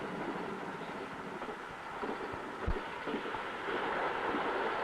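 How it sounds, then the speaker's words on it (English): A steady low rumble and clatter of a long goods train rolling past, continuous and fairly distant, with a brief thump partway through. "Look at the length of this goods train."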